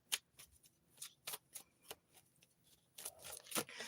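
Oracle cards being shuffled close up, a quiet series of soft riffling flicks and slaps in uneven bursts, with no voice.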